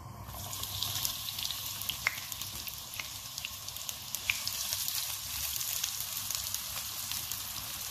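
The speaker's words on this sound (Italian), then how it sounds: "Ora in una padella calda metto un bel giro di olio extravergine di oliva e aggiungo la cipolla" Chopped onion sizzles in extra virgin olive oil in a hot pan, a steady close frying hiss with faint scattered pops and no voices.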